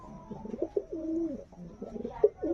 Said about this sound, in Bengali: এই এক জোড়া কবুতর আছে